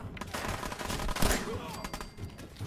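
Gunfire in the video game Fallout 4, a dense burst of rapid shots with a sharp louder blast near the middle, set against game sound with no clear talking.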